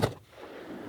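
A single hunting rifle shot fired in New Zealand high country, one sharp loud crack at the start that decays into a fading outdoor echo and quiet ambience.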